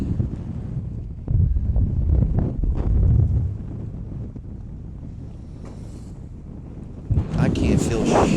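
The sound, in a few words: strong wind blowing while fishing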